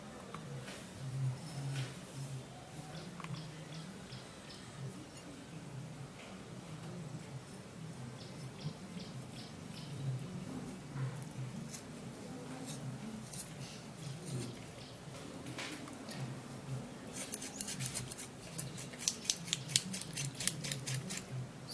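Knife slicing through a fresh aloe vera leaf, close and soft: faint crisp cuts and squishy snips scattered over the span, with a run of quicker clicking cuts near the end.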